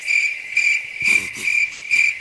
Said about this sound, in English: I added crickets just for Dan